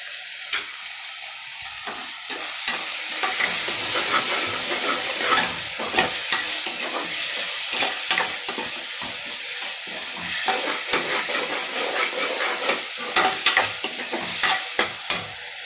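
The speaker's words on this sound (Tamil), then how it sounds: "தக்காளி போட்டு கொஞ்சம் உப்பு போடுங்க, அப்போ தான் நல்லா வதங்கும்." Tomatoes fry in a pan with salt and turmeric, giving a continuous close sizzle. Repeated scraping stirs of a spoon run through it, with no talking.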